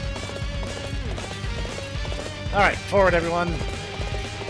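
Horse hooves clatter in a quick galloping rhythm in Dynasty Warriors 8 Empires, with a loud whinny partway through and a voice speaking over the hoofbeats.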